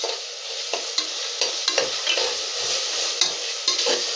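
Onions sautéing in hot oil with ginger garlic paste for a mutton curry, a steady close sizzle broken by repeated scraping stirs of the spoon in the pan, with no talk.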